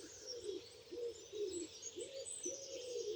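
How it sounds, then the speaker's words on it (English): Many pigeons cooing together on a morning walk at the Sandringham estate in Norfolk, a steady rhythm of soft, rolling coos repeating every half second or so, moderately close and fairly quiet with no talk. "oh my god, there's a lot of pigeons. It's so noisy."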